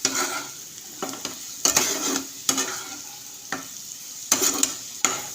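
Fried rice with sugar and ground black pepper sizzles steadily in a pan, broken by repeated scraping stirs of a spatula at irregular intervals, close and moderately loud, with no voices.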